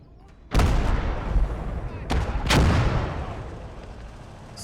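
Mortar artillery fires in a video game, with a sharp booming report at about half a second and two more heavy blasts near two and two and a half seconds, each trailing off in a rumbling decay.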